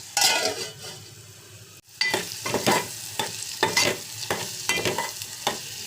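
Egg frying in a covered pan seasoned with cumin powder, giving a steady close sizzle broken by repeated scraping stirs and a brief dip in sound partway through.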